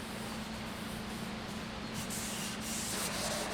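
Sandpaper worked by hand over a wooden stave drum shell gives a continuous coarse rubbing hiss, close and even, with slight swells as the strokes change and no voices.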